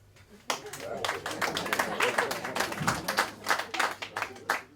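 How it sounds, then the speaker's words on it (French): Scattered clapping from a stand-up comedy club audience in Switzerland builds into steady applause, many hands patting irregularly at moderate distance. "toujours dans le public par applaudissement"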